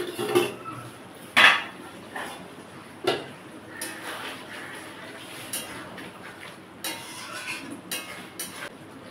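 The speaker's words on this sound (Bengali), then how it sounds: "ঢাকাটা খুলে দেখে নেব।" A metal lid lifted off a pot of simmering chicken curry with green chillies, giving a sharp clink, then scattered lighter clatters of cookware over a soft background hiss.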